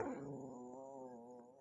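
A cat gives a single drawn-out, faint low growl outdoors at night, its tone wavering and fading over about a second and a half.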